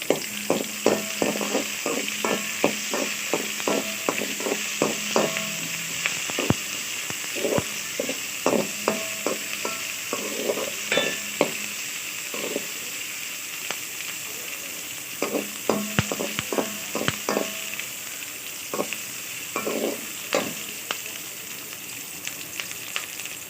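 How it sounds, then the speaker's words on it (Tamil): Sliced onions and curry leaves sautéing in sesame oil for a carrot chutney, a continuous close sizzle broken by quick bursts of rhythmic spatula scrapes against the pan, no one speaking. "வெங்காயம் போட்டாச்சு அதுலேயே கொஞ்சம் கருவேப்பிலை போட்டுடலாம் இப்போ நல்லா வதக்கிக்கலாம்"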